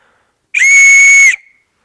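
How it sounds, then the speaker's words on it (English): A hand-turned wooden whistle is blown once, giving a loud, shrill, steady tone that lasts under a second against silence and ends with a short tail. "So let's test out our whistle and make sure it works."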